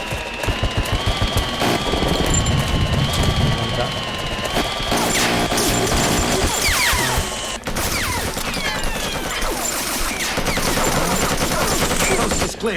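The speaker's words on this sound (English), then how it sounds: "just shooting so many bullets out" Rapid bursts of video game gunfire, heavy automatic fusillades with crashes and clatter, loud and continuous throughout, with a voice speaking at times in the mix.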